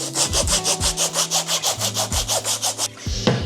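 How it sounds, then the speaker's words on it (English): Rhythmic back-and-forth rubbing on small wooden project pieces, about sixteen steady even strokes close up, ending with a brief bump and a light clatter. "we can go ahead and give everything a sand"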